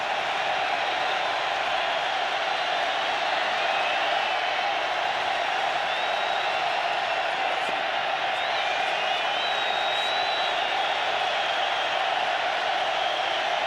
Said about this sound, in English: Manning calling signals against huge crowd noise